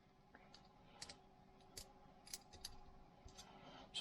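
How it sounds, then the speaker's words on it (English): Faint, irregular clicks and small pops from a DVD player in the background of a digital cinema projector teardown, scattered sparsely across a quiet room. "the noise in the background from the DVD player clicking and popping"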